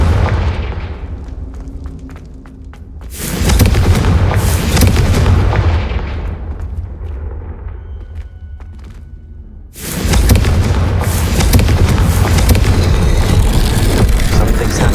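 Loud blasting-curse explosions in the Hogwarts Legacy video game, with two big bursts near, each followed by a rumbling roar and debris, between quieter stretches of game ambience.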